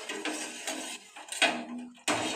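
A spoon scrapes and knocks against a patterned metal cooking pot while food is stirred for a healthy breakfast recipe, producing irregular close clinks and rubbing sounds.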